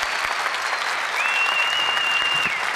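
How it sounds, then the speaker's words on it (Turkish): Loud, sustained clapping from a television talent-show audience, a thick even wash of hands with a thin high whistle-like tone gliding across the middle. "Ben daha büyük bir alkış hak ettiğine yürekten inanıyorum."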